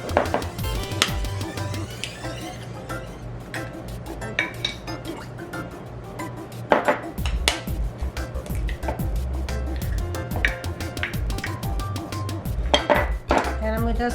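Three eggs cracked one at a time into a bowl in a home kitchen, the sharp shell taps and clinks ringing out over a steady background hum and faint kitchen clatter.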